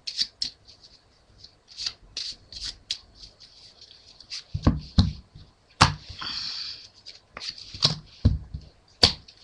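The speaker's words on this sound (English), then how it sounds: "Shuffle." A deck of playing cards is cut and shuffled by hand during a card trick, giving sharp close-up snaps and quick riffling bursts at an uneven rhythm, with a longer riffle in the middle and no talking.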